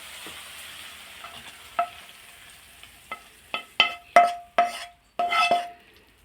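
Tomato and onion sautéing in a pan, heard as a faint sizzle under a run of sharp metal spatula scrapes and clinks against the pan, sparse at first then quicker and louder near the end.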